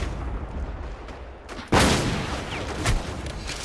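Rocket launcher blast and gunfire in the online shooter War Inc. Battlezone: a quiet stretch, then one sudden loud close explosion, with sharper shots and a second smaller bang trailing after.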